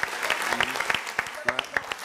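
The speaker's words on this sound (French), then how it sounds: "applaudissons pour Cristiano." Audience applause for a sports figure, with steady mid-level clapping from many hands throughout and a few sharper individual claps standing out, under faint voices.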